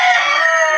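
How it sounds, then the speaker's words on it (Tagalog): A rooster crows loud and close in a small backyard chicken coop, one short, sustained, clear burst. "Ating munting manukan"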